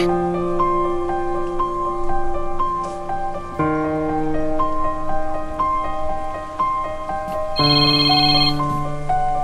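A cellphone ringtone plays loudly and steadily as a repeating melodic tune of bright tones, with no voices over it.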